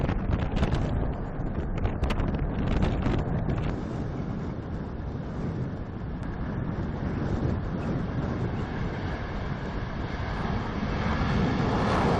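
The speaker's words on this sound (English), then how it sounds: "The plane behind us was built in 1985." A 1985-built airplane roars steadily nearby, with its engine noise blending into heavy wind rumble that holds loud and constant throughout, and no voices are heard.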